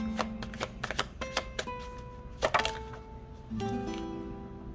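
Tarot cards are shuffled in quick bursts of flicking and riffling, with short crisp clicks and pauses between handfuls, close and fairly soft, while a faint background music tone lingers.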